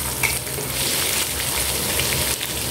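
Chopped onions hit hot oil already holding mustard seeds, cumin and asafoetida, giving a loud, dense, continuous sizzle close up, rain-like and unbroken.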